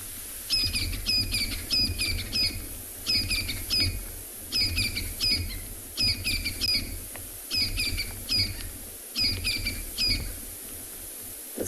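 Francolins call in the morning on a safari reserve: repeated rapid bursts of harsh, ratcheting shrieks in rhythmic groups, fairly loud, with a low steady background rumble and no talk.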